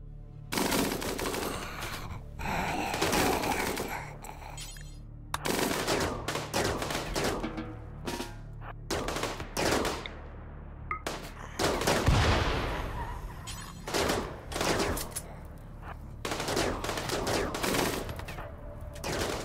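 Rapid automatic gunfire bursts from a RimWorld zombie-shooting session, separated by short pauses, with one low thumping impact midway.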